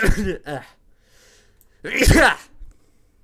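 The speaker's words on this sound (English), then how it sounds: "Hold on, gotta sneeze." A single loud sneeze bursts out at close range, preceded by a short sharp intake of breath.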